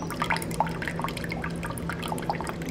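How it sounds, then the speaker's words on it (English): A fridge water dispenser trickling slowly into a cup, a thin, steady drip-and-splash stream with faint irregular drops over a low appliance hum. "the water pressure of like the water dispenser just became hella slow"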